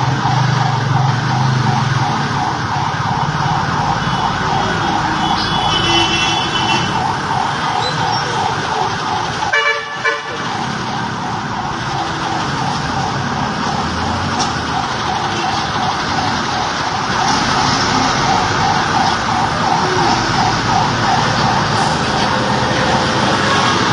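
Emergency siren from a fire truck on a street in Malate, Manila, during a fire, wailing steadily and loudly over continuous traffic and city noise for the whole stretch.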